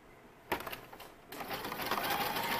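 Sewing machine stitching swim elastic onto a swimsuit edge, a brief start followed by a steady, fast, close mechanical whir with no voices.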